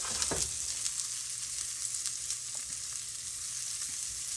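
A second batch of a HelloFresh meal kit fries in an oiled pan with a steady, moderate sizzle and a few faint clicks, with one sharper knock near the start and no voices.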